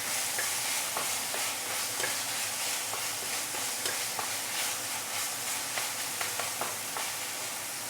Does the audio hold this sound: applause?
no